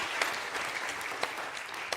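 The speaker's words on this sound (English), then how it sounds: "Give her one more round of applause" Audience applause after a young singer-songwriter's performance, a steady dense wash of clapping from a crowd lasting throughout, with no voices over it.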